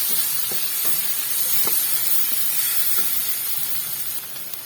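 Chopped tomatoes sizzle and fry in a hot pan, a steady close hiss with a few soft stirring clicks, fading slightly at the end, with no voices.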